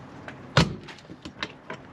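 The thick door of a Palomino HS 2912 truck camper shuts with one sharp thud, followed by a few lighter clicks and rattles close by.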